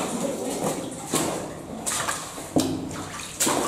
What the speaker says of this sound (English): Just draining down there.